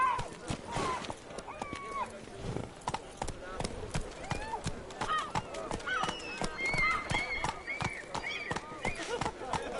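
Horse galloping in The Witcher 3, rapid rhythmic hoofbeats with occasional neighs, blended with game sounds and spoken character voices.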